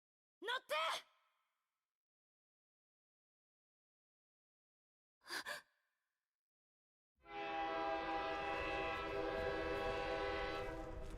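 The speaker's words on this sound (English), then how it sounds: "the urgent blare of a train horn as it thunders into the station" A train horn blares as a train thunders into a station in the Girls Frontline 2 video game: after two short sighing vocal bursts and silence, a loud, sustained harmonic horn with rumbling rail noise begins and holds to the end.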